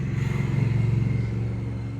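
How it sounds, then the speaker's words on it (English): A loud motorcycle engine rumbles steadily with a pulsing throb, heard from indoors through an open window, close and without talk. "Motorcycle, sorry."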